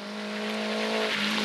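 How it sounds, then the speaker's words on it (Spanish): A rally car on a gravel special stage near Cerro Azul, Quilmana, approaching with a steady, rising engine drone and a strong sustained tone that swells in loudness as it nears, heard alone without talking. "aquí se aparece el primer coche"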